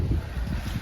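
Gusty wind buffeting outdoors on a wet, muddy farm in northeast Britain, a brief low rumble of wind noise with no voices.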